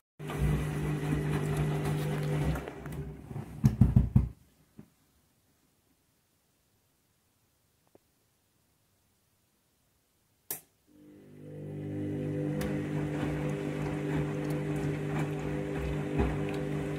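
A washing machine on its spin cycle, self-destructing, gives a loud steady rumbling drone that cuts out abruptly into near silence with a single knock, then spins back up to a sustained heavy whir.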